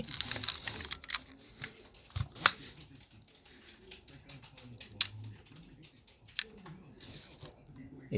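Sharp mechanical clicks scattered across several seconds, a camera shutter set to bulb mode opening and later snapping shut, with quiet handling noises in between.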